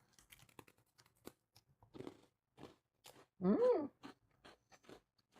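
Crunchy bread with nuts is bitten and chewed up close, a run of short dry crunches and clicks with one louder sustained crunch in the middle and quiet pauses between bites.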